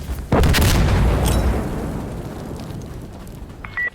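Grenade blast in Insurgency Sandstorm, a single loud, close boom erupting suddenly and rumbling as a long decaying roar, with faint gunfire clicks in the tail.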